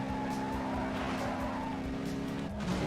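A Ford Mustang GT350 with its Voodoo V8 in Need for Speed Carbon, revving loudly and steadily with tires squealing through a slide and a brief gear shift near the end.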